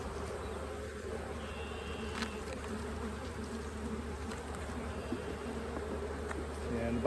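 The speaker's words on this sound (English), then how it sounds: "when I get bees flying around like this" Honeybees fly around a beehive, making a continuous dense buzzing swarm drone that stays close and steady throughout, with individual bees whizzing past.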